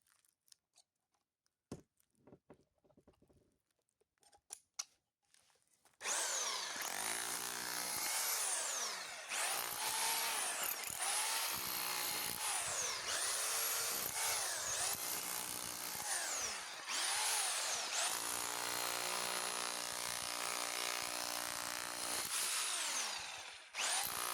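A Dnipro-M BH-14S barrel rotary hammer chisels with a spade bit. It comes in after a few quiet seconds of small clicks and handling, then roars loud and close with a hard, rapid hammering that wavers as the bit bites and eases.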